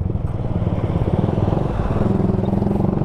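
Suzuki Gixxer 155fi motorcycle engine running steadily up close, with a low rhythmic exhaust pulse and throttle changes through a clutch-and-gear shift, with no talking.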